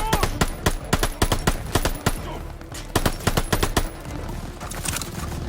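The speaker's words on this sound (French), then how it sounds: "Mitrailleuse sur le half-track!" Machine gun fire from a half-track in Call of Duty Vanguard: repeated loud, close bursts of rapid shots separated by short pauses, with steady battle noise underneath.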